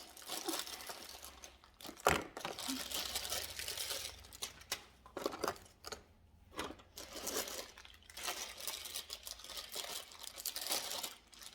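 Crinkly plastic packaging from Easter basket goodies being torn and fumbled open, with irregular close crackles, rustles and a sharp tearing snap amid quiet pauses.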